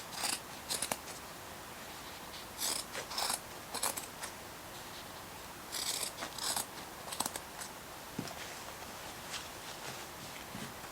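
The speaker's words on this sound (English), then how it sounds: "right about where the knee starts, I'm just going to start cutting little slats in here" Scissors snipping short slits into denim jeans fabric near the knee, scattered crisp cuts in small clusters with quiet gaps between them.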